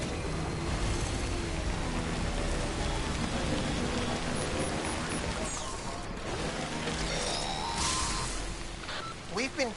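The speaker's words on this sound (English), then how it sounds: "We've been getting near constant timefall in this region for a while now." Timefall rain in the Death Stranding video game pours steadily with a dense hiss of drops on surfaces, a low rumble beneath, and some sharper effects near the end.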